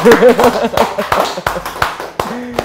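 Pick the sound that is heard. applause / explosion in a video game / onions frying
applause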